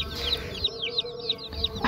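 Javanese and Bangkok chickens cluck in a rural yard, a run of repeated close, bright clucks in quick succession over low background noise.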